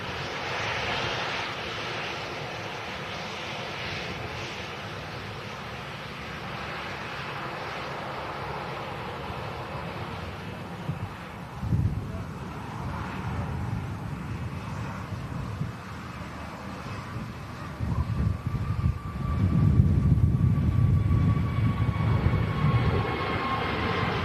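An airliner taking off, a broad roaring rumble that builds steadily and grows heavier and louder toward the end, with no speech.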